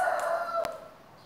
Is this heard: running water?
no